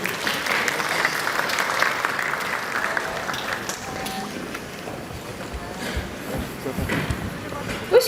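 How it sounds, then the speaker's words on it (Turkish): An audience at a product launch event applauds steadily, a dense wash of clapping that fades somewhat before a voice speaks over the dwindling claps. "Alkışlarla sahneye davet ediyorum."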